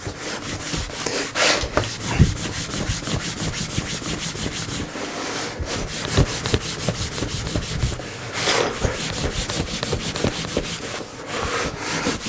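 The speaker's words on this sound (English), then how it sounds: "it's basically give the leather a good firm rub" A leather belt is buffed with a firm rub of a cloth or brush, a repeated dry scrubbing swish in quick back-and-forth strokes, close and fairly loud, continuing steadily throughout.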